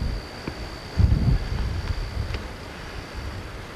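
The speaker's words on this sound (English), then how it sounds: "so you like to get gusts of wind sound." Low, rumbling wind buffets the microphone on a tobacco farm, swelling into a stronger gust about a second in before easing to a steady outdoor blow.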